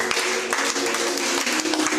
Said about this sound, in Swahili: Pigia Yesu makofi mazuri.